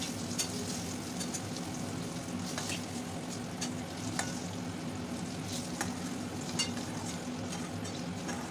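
Eggplant slices and leafy greens fry in pans on a home stove, a steady, even sizzle and crackle with occasional sharper pops and no talking.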